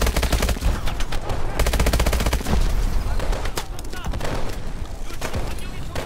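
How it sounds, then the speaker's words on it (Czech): Rapid bursts of Call of Duty: Advanced Warfare gunfire rattle loudly and close, with automatic volleys and scattered single shots overlapping, while a voice talks underneath. "Ono to po mě střílí."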